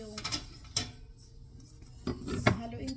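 Utensil stirring seasoned ingredients in a bowl for a home-cooked salmon dish, with a few scattered clinks and scrapes against the dish near at hand, quiet gaps between them and no talking.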